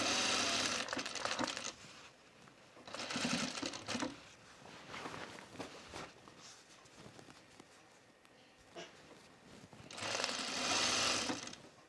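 A sewing machine stitching a straight side seam on a Mercer top, running in three or four close bursts with quieter pauses between them.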